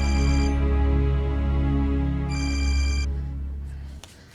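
A telephone rings loudly in a domestic drama scene, two bursts of electronic ringing that stop abruptly near the end, with no talk over it.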